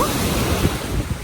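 Ocean surf rolling onto a beach in Mexico, a steady broad wash of breaking waves mixed with gusty wind rumble on the microphone, continuous and close throughout.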